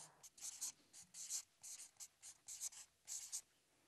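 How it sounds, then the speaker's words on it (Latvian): Pen or pencil strokes scratch across paper in short bursts, a dozen or so soft, close scribbles separated by brief pauses, with no voices over them. "Tad es varu tagad rakstīt."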